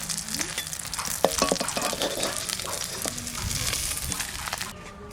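Small bata fish frying in oil in a pan for a spicy jhal: a loud, steady hiss and sizzle with scattered crackles and pops close up, and no talking.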